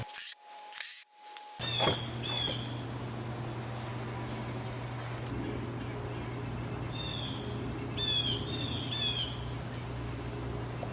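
Birds call outdoors at a backyard woodworking spot, a few short chirping and twittering notes, some in quick clustered bursts, over a steady low hum, after a brief loud clatter at the start.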